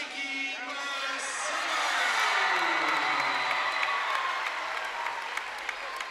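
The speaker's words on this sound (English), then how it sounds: "Let's just listen to the crowd." A boys' high school basketball crowd at a Waterford–East Lyme game roars and applauds for its MVP, a dense, sustained wall of cheering and clapping that swells and holds, with scattered shouts and whoops inside the arena.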